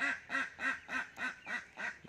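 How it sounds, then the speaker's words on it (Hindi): A duck quacks seven times in a quick, even rhythm, close and clear with nothing else around it. "बत्तख की आवाज़ सुन लीजिए दोस्तों।"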